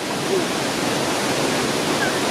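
Loud, steady rushing water fills the whole stretch, a continuous broadband roar of a stream flowing close by with no pauses.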